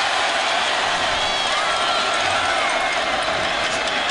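Stadium crowd at a 2010 Auburn vs Mississippi State college football game, a constant loud, tense roar filling the space with a voice partly audible underneath.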